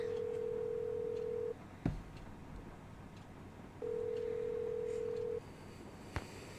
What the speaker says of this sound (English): we can make a couple of phone calls here